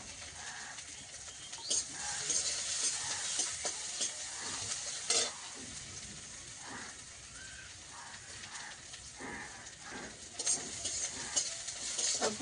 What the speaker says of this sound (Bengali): পেঁয়াজটা একটু লাল লাল হয়ে এসছে, ফোড়নটাও একটু ভাজা হয়েছে